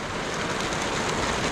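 Rain from a thunderstorm falls on a sailing catamaran in Croatia, a dense, even hiss of drops close by with no voices.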